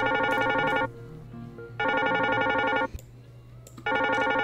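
A homemade phone ring effect made for a horror game sounds in three loud, electronic trilling bursts of about a second each, separated by short quiet gaps.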